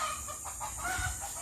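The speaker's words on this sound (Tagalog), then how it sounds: "wait lang, may manok" A rooster clucks and gives a short crow nearby, the calls coming in quick rough bursts over steady outdoor ambience with no talking.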